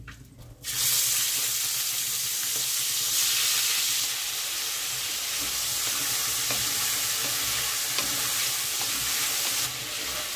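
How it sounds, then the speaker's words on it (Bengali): Peeled, salted medium shrimp drop into hot oil, and a loud, dense sizzle jumps up and then holds steady and close, with faint stirring ticks underneath. "চিংড়ি মাছটা ভালো করে ধুয়ে নুন মাখিয়ে রেখেছি, এবার ভাজার জন্য দিয়ে দিচ্ছি।"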